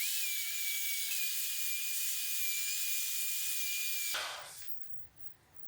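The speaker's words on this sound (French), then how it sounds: "le gain de temps est fou de faire ça avec une ponceuse à bande" A belt sander whines steadily against wood with a high, constant grinding tone using 120-grit, then stops and winds down, leaving quiet scraping.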